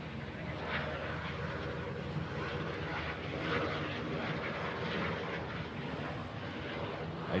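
A Qantas airliner at Honolulu airport produces a steady, broad engine roar that holds at an even level throughout, heard from a distance with no clear voices.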